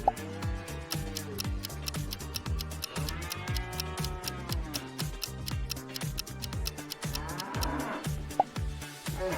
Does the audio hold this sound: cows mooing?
yes